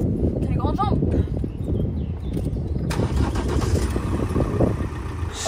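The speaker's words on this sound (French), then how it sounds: "Je viens d'allumer le moteur." A van engine cranks and catches, settling into a running rumble close by, with a brief faint voice early on and light rustling over the steady motor.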